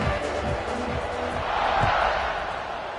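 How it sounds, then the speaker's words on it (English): A stadium crowd in the College Football 26 video game, at a Mississippi State game, keeps up a continuous, broad roaring buzz with a slight swell midway, and a commentator's voice sits on top. "this crowd is buzzing after that last score."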